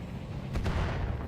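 Two mortar shots from a Locust 1P mech in the BattleTech game, a pair of muffled booms about a tenth of a second apart over steady low rumble.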